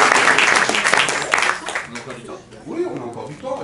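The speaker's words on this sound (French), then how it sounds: "On applaudit" An audience claps at an improv theatre festival, loud at first and then thinning out, with a voice speaking over and after the fading applause.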